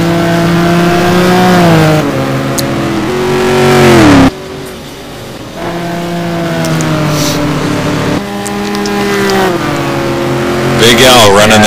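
A Ferrari 575 GT1 race car engine at Silverstone, loud and close, revving up in repeated rising pulls with gear changes, under a commentator's steady talk.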